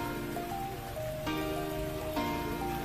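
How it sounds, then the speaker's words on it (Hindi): Steady rain patters on a surface, a constant hiss with some tonal hum in the background and no one speaking. "ऊपर बारिश स्टार्ट हो गई"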